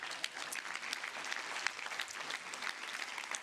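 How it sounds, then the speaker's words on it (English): An audience applauds at a conference event, with fairly faint, even clapping from many hands and a few sharper claps standing out. "A warm applause"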